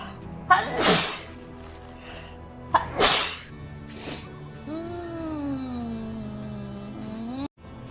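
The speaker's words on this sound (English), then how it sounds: "Oh, I'm gonna sneeze again." Two sharp, explosive sneezes about two seconds apart, each with a quick gasp, close and loud, followed by a smooth gliding electronic tone from game sound in the background.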